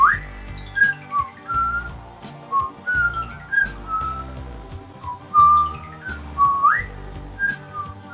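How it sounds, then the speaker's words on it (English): A bright whistled melody rides over a rhythmic bass-heavy musical backing, with sliding notes and quick upward swoops. "a really dang catchy melody being whistled"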